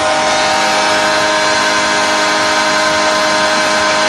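A loud, steady horn-like notification tone blares without a break for about four seconds, dense and buzzing, with no voices over it.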